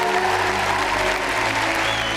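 Audience applause for the Titanic cast and James Cameron, a continuous wash of clapping from a large crowd with a low hum underneath, steady and undiminished.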